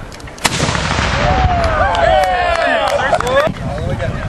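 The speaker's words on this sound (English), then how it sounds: "Open your mouth when the gun goes off." A historic cannon fires during an artillery demonstration at Battersea House in Petersburg, Virginia, giving one loud boom that rolls into a lingering outdoor rumble, with voices and high whistling sounds around it.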